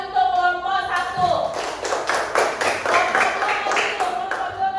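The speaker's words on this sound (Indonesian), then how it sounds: "tepuk tangan untuk kelompok 1." Clapping from a third-grade classroom of pupils as the teacher calls for applause for the first group; a short, uneven burst of small hands rising around the one-second mark and lasting a few seconds, with voices heard alongside.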